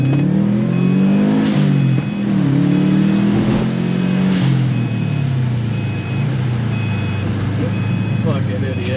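A Subaru car pulls away and accelerates, its engine droning loudly and rising in pitch, while a steady beeping and people talking continue over it.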